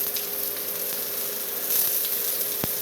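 Onions hit a hot pan while cooking sarsyado, giving a loud, continuous hissing sizzle close to the mic, with a brief sharp tap near the end.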